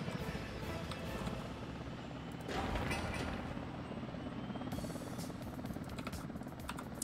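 Helicopter rotors thump steadily in the Workers & Resources city-building game, a continuous whirring drone with a brief louder swell partway through as the aircraft passes close, with no talk over it.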